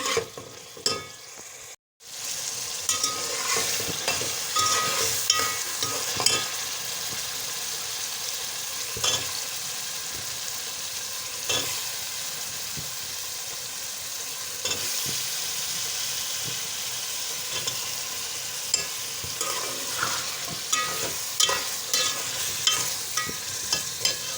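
Potatoes for aloo katli frying in a pan give a steady, close sizzle that runs nearly the whole time, punctuated by scraping stirs and clinks, with one brief cut near the start.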